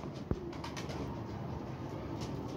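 A pigeon, a female kept in a loft, coos softly at close range against a steady background hiss, with one sharp click near the start.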